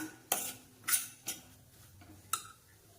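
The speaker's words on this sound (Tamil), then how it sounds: "இந்த கேரட்டையும் இந்த ரவையும் வந்து நல்லா வதக்கிக்கணும்" A utensil scrapes and taps against a pan as grated carrot and semolina fry in ghee, with four sharp clinks spaced unevenly over a soft background, close and fairly quiet, with no talking.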